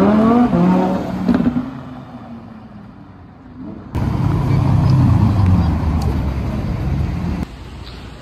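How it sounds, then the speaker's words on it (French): A second-generation BMW M6 driving through Paris streets, its engine note rising and falling up close with road and traffic noise, fading at the start and then surging louder. "je vous la filme parce que j'aime bien cette voiture, mais petite M6, les deuxièmes"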